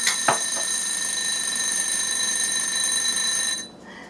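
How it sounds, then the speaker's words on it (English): A kitchen timer for cooling homemade cranberry granola rings out with a steady, shrill electronic tone that holds for several seconds, with a couple of soft knocks near the start, then cuts off abruptly near the end. "I think I set the timer for 30 minutes"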